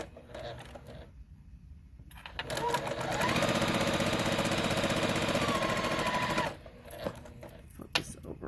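A sewing machine stitching fabric for a quilt block, a steady rapid mechanical whir for several seconds, loud and near, between quieter handling noises before and after.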